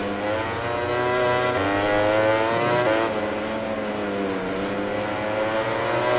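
Ducati GP20 racing motorcycle in MotoGP 20, its engine screaming at high revs with rising and falling pitch through gear changes, loud and continuous throughout.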